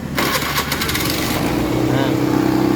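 A Honda Scoopy FI scooter, one whose throttle tends to race on its own, starts with a brief starter whir before the engine catches and runs on in a steady, close, buzzing drone.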